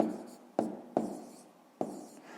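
Pen or chalk writing numbers by hand for a fifth-grade column-addition exercise, heard as a few sharp taps and scratchy strokes with quiet gaps between them, close and faint.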